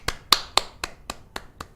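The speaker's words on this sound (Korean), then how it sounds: "박수." Seven sharp, evenly spaced hand claps, close and crisp, with a couple accented slightly louder, and no voices.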